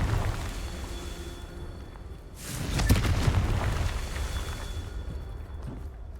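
A Confringo blasting spell in Hogwarts Legacy erupts into a booming explosion partway through, a sudden loud burst followed by a sustained rumbling roar over constant game ambience.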